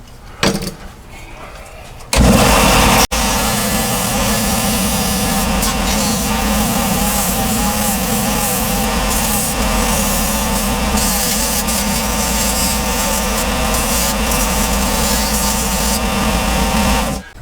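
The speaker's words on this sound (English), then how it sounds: "the sander does such a good work" Power sander shaping a handmade pottery knife tool, a loud continuous grinding whir starting after a quieter opening and running steadily to the end without a break.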